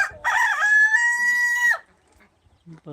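A free-range country rooster crows loudly and close by in one long, sustained call of nearly two seconds, followed by quiet and a few soft clucks.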